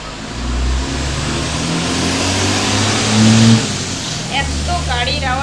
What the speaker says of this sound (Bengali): এত গাড়ির আওয়াজ কি বলবো, তোমাদের সঙ্গে শান্তি মতো কথা বলতে পারি না আমি